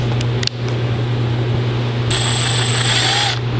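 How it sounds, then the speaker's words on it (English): A power drill whines steadily and close up, its high-pitched motor rising as it bites in, over a constant low hum. "Drill directly into the center of that, and you're gonna be good every time."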